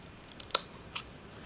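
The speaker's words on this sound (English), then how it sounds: "now all I'm going to do is cut to that dot" Scissors snipping paper while making a birthday card, two short crisp cuts a fraction of a second apart, close up and clear against a quiet room.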